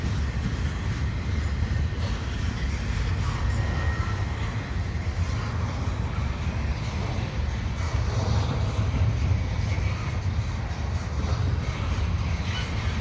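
A slow CN double-stack freight train rolls steadily past in St-Henri, a continuous low rumble and wheel noise sustained at even loudness throughout with no voices.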